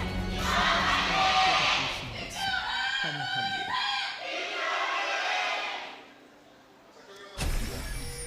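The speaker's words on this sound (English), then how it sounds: "the SKT cheer is about 2 or 3 times louder than BBQ" A sold-out arena crowd at a League of Legends match roars and chants in waves, loud and continuous, then fades briefly before a burst of noise returns.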